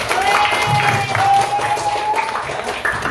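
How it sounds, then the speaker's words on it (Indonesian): A class of students claps together in a classroom, a short burst of mixed clapping and cheering that is close and fairly loud, with a faint tone and some voices mixed in. "Sekarang tepuk tangan buat kalian semua."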